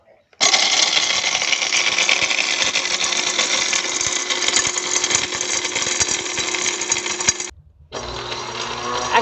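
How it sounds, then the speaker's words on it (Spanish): A seed mill grinds dehydrated nopal cactus pieces into flour with a loud, steady whirring buzz and gritty rattle, cutting out briefly near the end before starting again. "Para que nuestro molino de semillas pueda moler mucho mejor, vamos a agregar una cantidad suficiente de nuestros nopales deshidratados."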